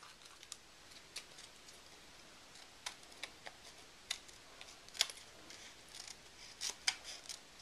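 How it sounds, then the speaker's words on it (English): Scissors snip through paper die-cut pieces for a layered banner birthday card, a series of faint, sharp, irregular clicks and snips close up in a quiet room. "then I can trim down my die cut pieces."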